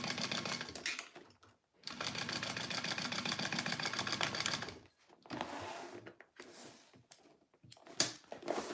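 A sewing machine stitches an extra line along a Poppie Purse, running in several bursts: a long steady whir that stops briefly, then shorter starts and stops close by.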